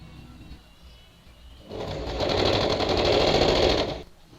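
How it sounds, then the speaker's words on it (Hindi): A domestic sewing machine runs in a steady, fast whirring stitch for about two seconds, sewing the princess line seam of a V-back designer blouse, starting after a quieter lead-in and stopping abruptly. "इस टाँकने के बाद इसको मैं मशीन में इस तरह से सिलाई करूँगी।"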